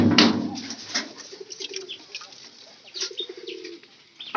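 Pigeons at a house give soft, low cooing phrases that come and go, with a louder flurry of wingbeats near the start and quieter rustling and calls behind.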